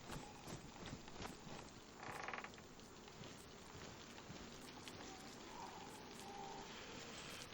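Rain falls in the DayZ survival video game as a quiet, steady patter of drops on surfaces, with a brief louder burst early on and a soft low rumble underneath.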